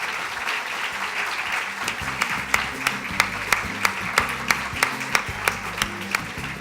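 Audience applause at the closing session of an innovation congress: a steady crowd applause bed that turns into rhythmic unison clapping, sharp regular beats about three per second growing more pronounced toward the end.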